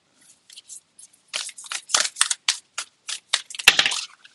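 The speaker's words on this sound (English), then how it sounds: "These cards are hard to shuffle" A deck of cards is shuffled and handled close up, giving a string of quick crisp riffles, flicks and taps with short pauses between bursts, fairly quiet and without talk.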